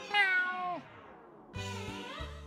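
A cartoonish meow from the snail Gary in The SpongeBob SquarePants Movie video game rises and falls, followed by a short pause and a second lower, warbling meow, close and clear without speech.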